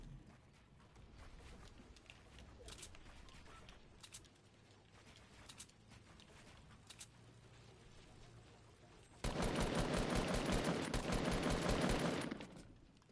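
Gunfire from a player in a Fortnite match, scattered clicking shots through the first stretch and then a dense, loud rattling burst lasting about three seconds before cutting off.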